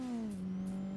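Race car engine in Forza Motorsport launching off the start line in a low-power open-class race, a steady droning rev with a slightly falling pitch, close and alone.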